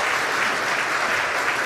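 A conference audience at an energy event in Newfoundland and Labrador applauds during a fireside chat. Dense, even applause from many hands is loud and continuous throughout, with no talk.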